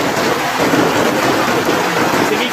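A violent hailstorm pounds down in Turin, Italy, a dense, loud, continuous roar of ice and rain hammering surfaces close by with no voices.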